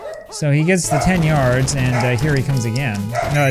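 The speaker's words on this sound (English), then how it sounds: "Apologies for my dog in the background." A pet dog barks and whimpers in the background of a room while someone talks steadily over it, the yips faint and partly masked by his voice.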